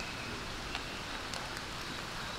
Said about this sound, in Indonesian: Sudah mulai hujan terus.